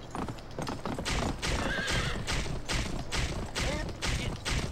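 Horse hooves clip-clop in a steady rhythm with a couple of whinnies from a gray horse in the Western video game Gun, close and loud against gameplay ambience.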